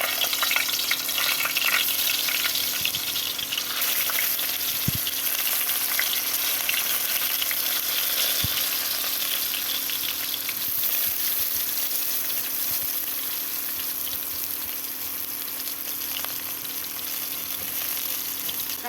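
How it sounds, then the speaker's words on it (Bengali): Pieces of pointed gourd fry in hot white refined oil in a kadai, giving a steady, dense sizzle that runs the whole time, with a few faint knocks of a utensil and no talk. "তেল গরম হয়ে গেছে, এবার দিয়ে দিচ্ছি পটল।"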